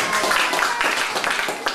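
A church congregation applauds with dense, quick clapping that holds steady throughout this short burst, loud and close.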